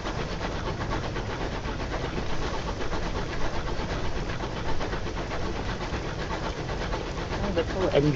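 A locomotive engine in the video game Sunless Skies chugs along steadily, a dense, continuous rumbling churn with a faint rhythmic pulse that keeps going without a break.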